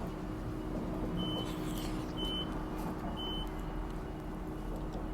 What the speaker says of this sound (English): beeper going off in the background